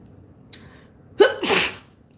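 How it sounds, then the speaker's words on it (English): A single loud sneeze, preceded by a brief sharp intake of breath, with quiet room tone before and after. "I have to sneeze."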